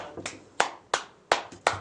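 A few people clap slowly and unevenly, five sharp bursts spaced roughly a third of a second apart, close by and moderately loud, with no voices over them.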